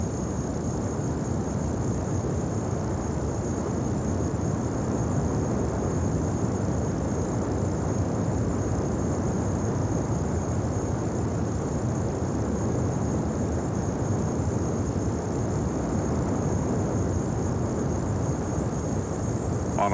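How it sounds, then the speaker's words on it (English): Steady, dense broadband jet roar of the XB-70 Valkyrie with all six engines on full afterburner, holding constant and loud for the whole stretch with no pauses. "Cotton applied full afterburners to the 6-pack, and the slender white shape of the Valkyrie began its steady increase in speed."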